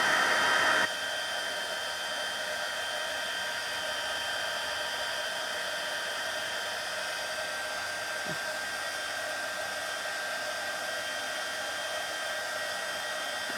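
A heat tool blows hot air steadily underneath cardstock to warm it for embossing, a constant close whirring hiss that runs the whole time with no voices over it.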